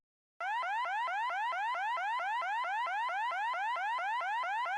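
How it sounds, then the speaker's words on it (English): A house alarm goes off at 3 a.m., a loud electronic siren with rapid repeating upward-sweeping chirps in a steady rhythm, starting abruptly and continuing alone without voices. "At 3 a.m, the house alarm went off."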